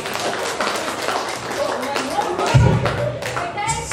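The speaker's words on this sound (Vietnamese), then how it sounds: "Xin một tràng vỗ tay." Audience applause at a 20-year reunion of a grade 9 class at a secondary school, a short burst of clapping and thumps under ongoing talk and crowd noise.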